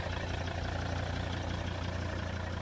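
A 2006 Volvo XC90 D5 seven-seater with 113,000 miles runs with a steady, even engine drone and a deep low rumble, constant and unbroken with no voices.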